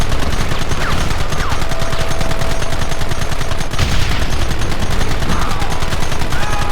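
Loud, sustained gunfire in the western game Red Dead Redemption, rapid overlapping shots forming a continuous barrage close to the listener.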